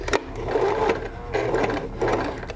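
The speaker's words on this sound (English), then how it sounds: "you're going to go ahead and stitch that edge" A sewing machine stitches the edge of a bound buttonhole on a garment facing, running in short close bursts of rapid rhythmic stitching with brief pauses between.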